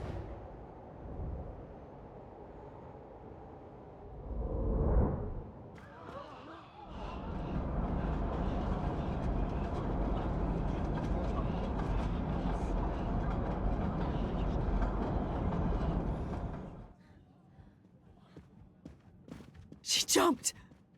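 A moving train in a video game rumbles loudly and continuously for several seconds after a brief swell, then cuts off abruptly into quiet, ending with a sharp high whine or screech.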